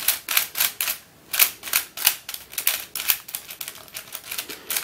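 Plastic 3x5x7 twisty puzzle, freshly lubricated after breaking in, being turned: a rapid run of crisp, close clicking and clacking layer moves in quick irregular bursts, fairly loud with no talking.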